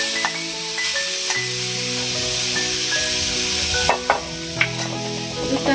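Old grated coconut being stirred and sizzling in a kadai, a steady frying hiss with scraping stirring strokes and a few louder clinks near the end, no talking.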